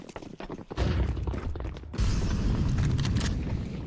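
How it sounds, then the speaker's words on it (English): Grenade blasts in a video game, a flashbang and a smoke grenade going off with a muffled boom and a long, loud hiss of sustained noise filling the mix, with no talk over it. "I'm throwing flashbang. Throwing smoke."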